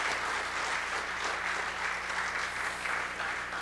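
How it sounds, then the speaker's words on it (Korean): Dense, steady applause from a congregation at a fathers' prayer meeting, honoring the staff; a full room clapping continuously at even loudness without any talk over it. "큰 박수로 우리 아버지 기도회 스태프들 박수 한번 해주시죠"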